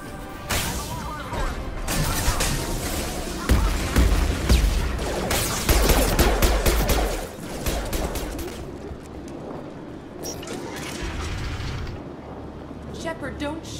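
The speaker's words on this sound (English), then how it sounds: "I'm glad it's you shooting up the place" Gunfire in the shooter Mass Effect Legendary Edition: dense bursts of weapon fire with crashes and whooshes, loudest in the first half, then thinning to scattered shots and mechanical clatter, with voices speaking in between.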